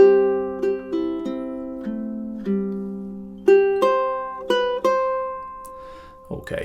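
A ukulele plucks out measures three and four of a song, a run of bright, clearly separated notes and chords that ring and decay one after another, close and solo with no voice.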